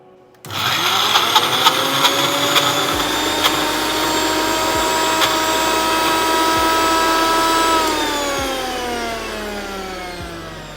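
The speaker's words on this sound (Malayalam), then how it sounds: "ഇതൊന്ന് ഒരു 2 ടീസ്പൂൺ വാട്ടറും കൂടി ആഡ് ചെയ്ത് ഗ്രൈൻഡ് ചെയ്യാം." A kitchen mixer grinder whirs loudly as it grinds shallots, garlic, ginger, salt and water. It spins up suddenly, runs as a steady high-pitched motor whine for several seconds, then slows and winds down.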